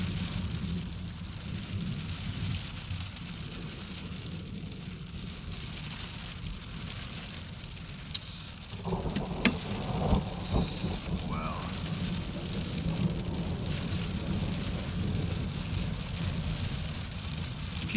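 Steady heavy rain pours through a thunderstorm, a constant wash of noise. About halfway through, a rumbling crack of thunder breaks in, and the downpour grows louder and denser afterward.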